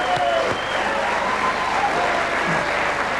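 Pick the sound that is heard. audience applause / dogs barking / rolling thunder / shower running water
audience applause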